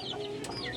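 A chicken clucks softly in short, scattered calls beside its feeding dish, against a steady low background hum.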